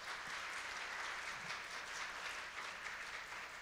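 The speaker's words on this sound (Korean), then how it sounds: "발표해 주신 대한의학회 이진우 회장님께 여러분들 다시 한번 박수 부탁드릴게요" Audience applause after a keynote lecture at a Korean health research institute's annual conference: steady, even clapping from a large crowd, held at a constant level throughout and heard at a moderate distance.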